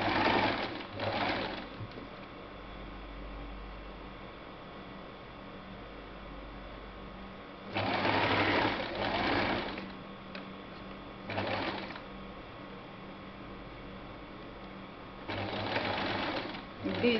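A sewing machine stitches a curve in fabric at a slow pace, running in short bursts of a second or two separated by pauses, with a steady low hum continuing underneath throughout.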